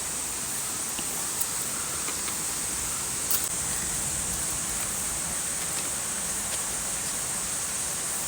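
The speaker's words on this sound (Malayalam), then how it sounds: "മഴ കേട്ടോ" Rain falling in a forest near Vazhvanthol Waterfalls in Trivandrum, Kerala, a steady dense hiss of water that stays even throughout with a few faint taps.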